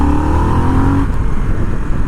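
A 2021 Harley-Davidson Sportster S, a 121-horsepower motorcycle, pulls hard under acceleration with a loud, close engine roar whose pitch climbs steadily before easing into a sustained rumble, heard without talk.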